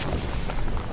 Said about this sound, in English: Okay, let's just do it with the torpedoes.